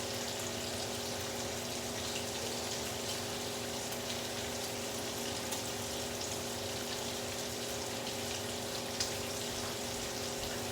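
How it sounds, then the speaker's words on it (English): Water pours steadily from a tap into a cooking pot in a kitchen while bacon fries nearby, making a continuous close hiss and rush with no talking. "I'm going to put some water in our pot"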